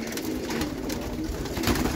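Roller pigeon hens cooing in a loft, soft low coos blended into a dense, steady background of rustling and ambient noise, fairly close.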